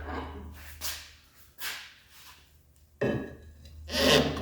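A pry bar works a worn rear suspension bushing off a Porsche 911T, giving a few separate scraping, grinding bursts of metal and rubber. The bursts are close and irregular, with a low hum underneath.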